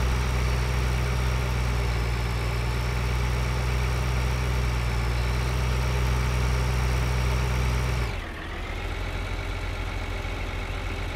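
A tractor engine in the Farming Simulator 2013 video game runs in a loud, steady drone, then drops abruptly to a lower idle near the end.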